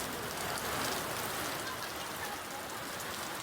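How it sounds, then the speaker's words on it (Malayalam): Heavy rain pours steadily during a windstorm in Ernakulam district, Kerala, a dense, continuous hiss with no breaks, fairly loud and unbroken throughout, with no voices over it. "മുജ്തബ, ജില്ലയിൽ വലിയ മഴ തന്നെയാണ് ഇപ്പോഴും ഉള്ളത്."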